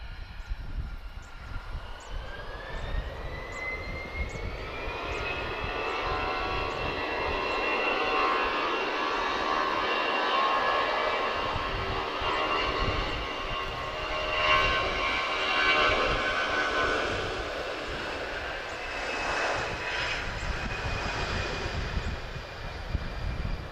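A jet airliner with retrofitted first-generation winglets at Lisbon Airport, a sustained loud engine roar and whine that swells and holds, heard from nearby without talk.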